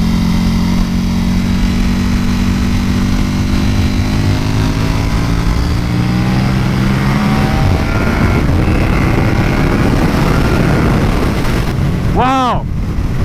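KTM Superduke motorcycle riding and accelerating, a loud continuous engine roar with rising and falling pitch sweeps under heavy wind rush, ending in a sharp rev climb near the finish.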